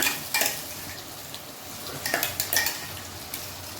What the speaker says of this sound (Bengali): মশলাটা ভেজে নিই, তারপরে আমি টমেটো দেবো